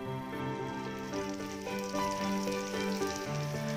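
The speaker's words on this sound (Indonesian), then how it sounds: "Kita lakukan hal yang sama hingga semua terong selesai digoreng ya." Eggplant fries in hot oil with a steady, soft sizzle, partly covered by light background music.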